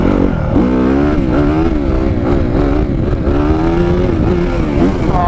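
Dirt bike engine, such as a CRF250R, EXC250 or PE175, revving loudly and close on a group trail ride, its pitch rising and falling continuously with throttle and gear changes, no talking.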